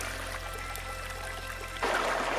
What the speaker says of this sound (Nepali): ग्लेसियरबाट बगेको पानी भर्खरै आउँदैछ on the way to Phoksundo